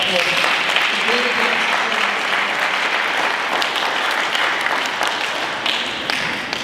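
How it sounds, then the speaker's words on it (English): An audience at a business group's launch event in Richmond, Virginia gives a sustained round of applause, dense clapping that slowly thins, with a few voices briefly audible in the crowd. "Give yourselves a round of applause"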